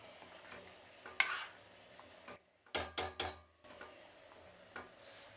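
A spoon stirs a pot of curry mixed with buttermilk, making a few quiet, short scraping and clinking bursts, with a tight cluster near the middle, separated by near silence.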